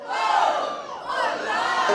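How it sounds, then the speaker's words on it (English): A crowd at a soca parang launch roars and cheers in a loud, sustained burst of shouting that swells, dips briefly, then rises again. "Make some noise for Santa, people!"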